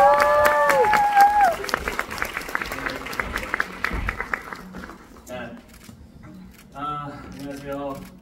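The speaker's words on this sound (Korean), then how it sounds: "박수 좀 주세요." A theatre audience at the closing performance of the musical Via Air Mail claps in sharp, distinct applause that thins out, with an early whistle, then people talking as the clapping dies down.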